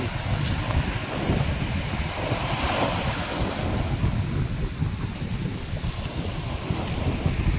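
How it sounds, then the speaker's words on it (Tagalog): Ocean surf builds steadily on a beach in Lubayat, Quezon, a continuous broad wash of breaking waves with wind buffeting the microphone throughout and no talking. "Yan, lumakas na yung alon."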